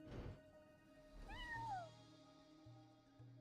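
A video game cat lets out one clear rising-then-falling meow after a brief thump, heard close over a low electronic hum.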